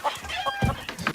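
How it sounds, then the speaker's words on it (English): Several chickens clucking close by, a quick series of short, uneven clucks and squawks overlapping one another. "now I've met all the chickens"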